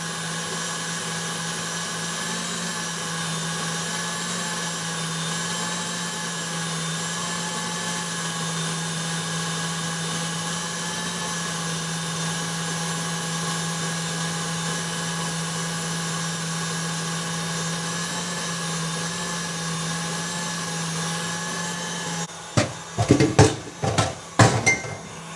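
An electric stand mixer at speed 6 whisks Italian macaron meringue with a steady, even motor whir that holds for over twenty seconds, then gives way to a few sharp clatters near the end.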